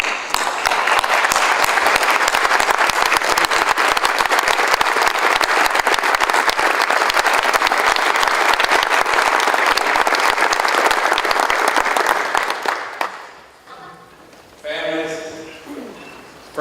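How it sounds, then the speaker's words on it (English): Audience members at a veterans' diploma ceremony rise for a standing ovation, their loud, sustained applause filling about twelve seconds before it fades out and a voice begins speaking. "would you rise and give them the honor that they are due with a standing ovation to begin this ceremony?"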